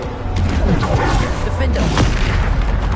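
Booming spell blasts in the Hogwarts Legacy video game on PS5, a dense continuous wall of loud explosive impacts and whooshes with no pause, combat noise layered throughout.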